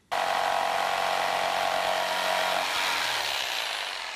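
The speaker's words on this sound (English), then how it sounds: "And then I can cut it out with a jigsaw." A jigsaw cuts through wood for a TV stand leg, one loud, continuous, close buzzing run lasting about four seconds, with the pitch shifting partway through and then stopping.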